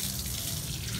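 Water runs steadily from a tap, a continuous close splashing hiss that fills the whole moment without any voices.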